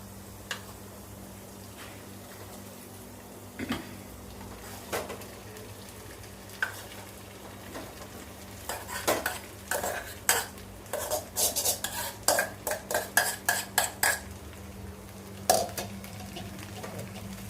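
Flattened rice poha is stirred into cooked potatoes in a pan, with a faint sizzle at first, then a run of quick spatula scrapes and taps against the pan, close and moderately loud.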